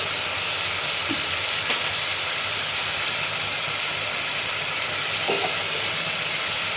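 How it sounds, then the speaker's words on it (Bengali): Ginger paste hits a hot pan of oil and a little water while cooking a vegetarian paneer curry, producing a loud, steady, close-up sizzle that hisses evenly throughout, with faint stirring scrapes. "এরপরে আমি আদা বাটাটা দিচ্ছি"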